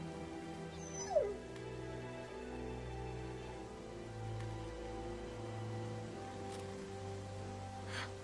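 A dog whimpering in The Walking Dead Season 2 video game, soft plaintive whines and yips over a low musical drone and light rain-like ambience, with no speech.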